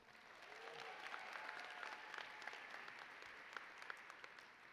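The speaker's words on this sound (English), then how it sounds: "won't we give them a round of applause?" A graduation convocation audience at CCNY claps in steady, dense applause that holds at an even level throughout, sounding somewhat distant and moderately quiet, with a few louder individual claps poking through.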